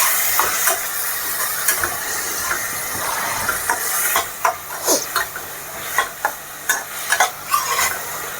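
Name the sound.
onions frying and being stirred in a pan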